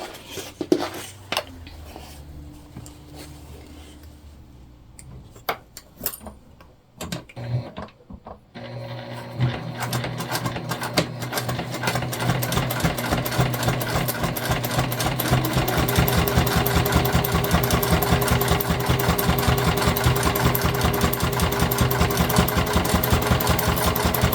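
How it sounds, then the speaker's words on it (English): A sewing machine bastes along the bottom of a tote bag pocket, starting with a few scattered handling knocks and stops, then settling into a fast, even mechanical stitching chatter that runs loud and close without pause. "we're just going to baste along the bottom to keep that pocket in place for the time being"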